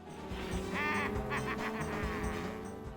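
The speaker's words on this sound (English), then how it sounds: "Now you can hear chirps whenever you hit other drivers with something you used" Short, bright honking chirps from a Mario Kart race sound out over steady game music and engine hum, several quick cries clustered in the middle.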